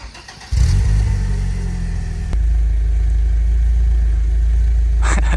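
A BMW E30 engine cranks and catches, then idles with a steady low rumble and settles into a deeper, louder drone, heard close and alone.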